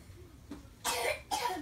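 A child coughs twice in quick succession, close to the microphone, after a faint throaty lead-in in a quiet room.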